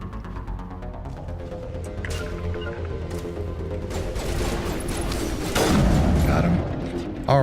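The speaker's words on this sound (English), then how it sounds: "You got a sniper shooting at you" Sniper gunfire and battle noise in the video game Mass Effect, a dense run of sharp mechanical cracks and booms over a constant rumble, loud and close, with no one speaking.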